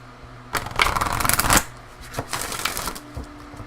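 Oracle cards are shuffled by hand in two quick bursts of crisp riffling and slapping, close and fairly loud, with soft pauses between them and no talk.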